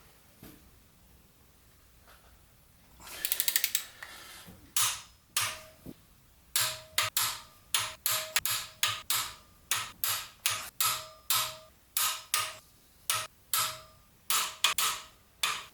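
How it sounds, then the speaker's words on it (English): Torque wrench tightening cylinder head bolts to 54 ft-lb on a Jaguar XJ6 engine: a rapid series of sharp ratcheting clicks followed by about fifteen crisp, evenly spaced clacks, close and alone. "I've set the torque wrench to the final setting now, 54 foot-pounds. So I'm just going to tighten everything in the same order,"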